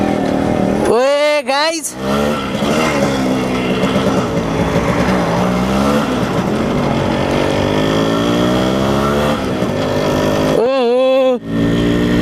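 A Yamaha RX-100 motorcycle, fully restored from scrap, is ridden with its engine revving and climbing in pitch at the start and again near the end, droning steadily in between as someone talks over it.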